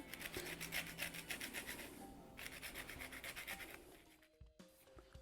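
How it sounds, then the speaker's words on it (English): Lemons being zested against a rasp-style grater for an icebox pie, steady rhythmic scraping strokes in bursts, fairly close, with a short pause and a few faint clinks near the end. "I'm not going to bore you by making you or having you watch me zest 4 lemons"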